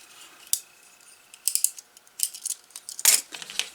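Excess leather is trimmed from a vintage leather tool chest handle, giving a few quiet, crisp snips and clicks in short irregular bursts against a near-silent background, with no voices.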